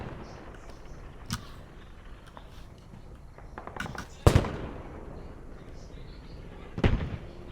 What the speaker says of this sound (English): More grad rockets coming in.